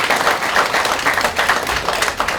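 Steady applause from a Memorial Day ceremony audience fills a short stretch, dense and fairly loud, many hands clapping at once with no talking over it.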